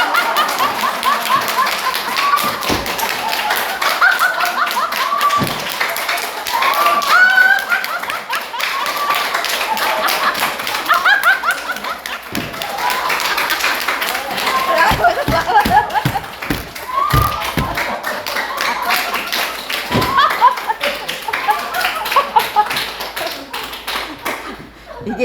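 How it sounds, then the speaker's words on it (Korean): A small church class claps together as an anti-drowsiness exercise, with sharp, irregular handclaps scattered through a long stretch, mixed with laughter and some talk. "이게 일명 졸음 퇴치 박수, 보약 박수예요"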